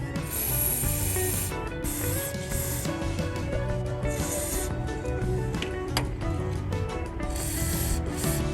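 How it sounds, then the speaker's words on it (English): Ratchet wrench with a 12mm socket loosening the alternator tension lock bolt on a 1987–91 Honda Prelude, a loud, steady run of close metallic clicking with short pauses between strokes. "12mm to loose the alternator tension lock bolt"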